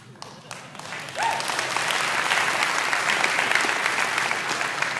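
An audience bursts into sustained applause at a talk on America and the poor, starting quietly, then swelling abruptly into a loud, steady roar of clapping with a faint voice near the start.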